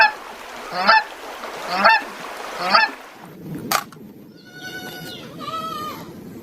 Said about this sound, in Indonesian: Bebek angsa.